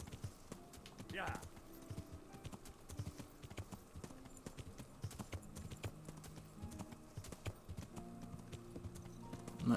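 Steady clip-clop of horse hooves trotting in the video game Kingdom Come: Deliverance, with a brief whinny early on and people talking over the top.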